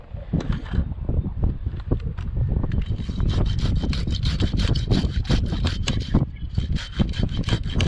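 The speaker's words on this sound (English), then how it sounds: "Guess I can try cutting with a handsaw." A handsaw cuts through white oak from a giant tree being rigged down, rasping in a steady rapid back-and-forth rhythm that grows faster and more continuous midway, loud and close.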